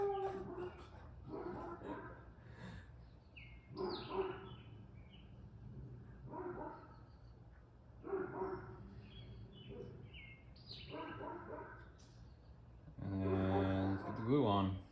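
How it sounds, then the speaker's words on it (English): A pet dog indoors whines, yelps and barks at another dog passing through the neighborhood, in scattered bursts that end in a louder, sustained whimpering cry. "I'm sure you can hear my dog feeling slighted because there is another dog walking in the neighborhood"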